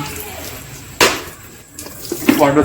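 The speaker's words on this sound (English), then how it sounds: "water sprinkler is ready." A homemade sprinkler made from a plastic bottle hisses and splashes water in a steady stream, with a sharp burst of spray and a few clattering knocks up close.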